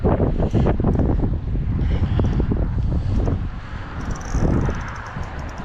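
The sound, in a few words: wind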